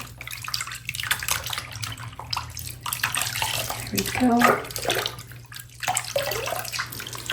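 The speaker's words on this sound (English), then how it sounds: "now that she's saturated again, I'm gonna dunk her in the water." Water sloshes and splashes as a vintage 1960 Barbie doll is dunked and swished in a filled tub, with dripping and a brief spoken remark mid-way.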